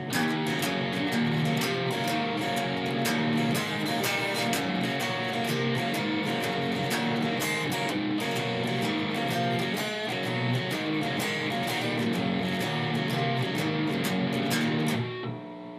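Distorted electric guitar drives through the main shuffle of a song at full speed, a continuous loud rhythmic strumming pattern with sharp percussive accents, played alone without talk.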